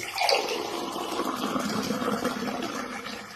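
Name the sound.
water poured into a glass over powder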